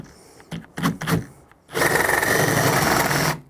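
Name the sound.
power drill drilling hole for keypad lock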